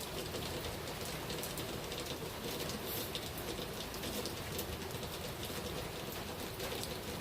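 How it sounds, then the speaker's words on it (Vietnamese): Steady rain falls outdoors, a dense and even patter of drops on surfaces that holds at moderate loudness throughout with no talking. "Trời, cái cảnh mưa này giống như y như ở Việt Nam vậy ta ơi."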